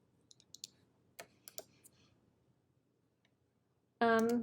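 A computer mouse clicks several times, quiet and close, sparse single taps with short gaps, followed by a brief burst of louder sound at the end.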